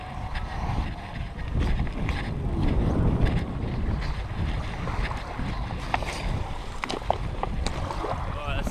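A bass fishing boat motors across open water during a tournament with steady broadband rumble, wind buffeting the microphone and splashing spray throughout.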